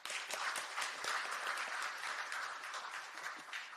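An audience at a talk concert on press freedom applauds, with dense, sustained clapping that stays steady throughout and fades slightly toward the end.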